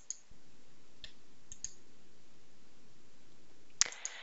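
Mouse clicks on the Assign button while working in STAAD.Pro, a handful of sharp isolated clicks spread over a quiet hiss, with a brief cluster of clicks near the end.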